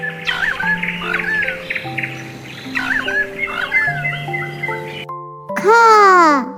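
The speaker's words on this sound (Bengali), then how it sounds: "কাকাতুয়ার মাথায় ঝুঁটি।" A cockatoo lets out one loud, harsh screech near the end, following a stretch of bright electronic melody notes and chirpy bird-like calls.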